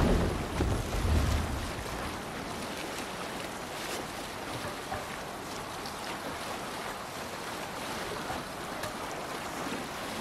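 Wind and waves while sailing in the game Assassin's Creed Valhalla: a steady rushing wash of wind and water around the boat, with a heavier swell at the start, continuous and without speech.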